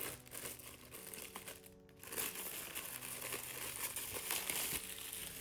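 Packaging from a stationery haul crinkles and rustles as it is opened, a soft, close, continuous crackle of wrapping with small taps and a brief pause.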